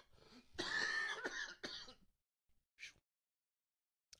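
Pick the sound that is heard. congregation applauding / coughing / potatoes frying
coughing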